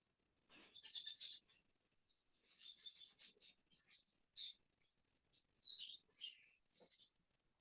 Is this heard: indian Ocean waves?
no